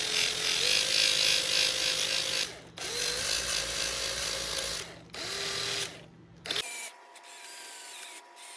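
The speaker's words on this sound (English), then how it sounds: "I think we'll get that with the sander." A power sander whines steadily against the surface of a crankshaft from a 2001 KTM 50SX during cleaning, running in three long passes with brief breaks. A clicking handling noise ends it, close by, with no talk.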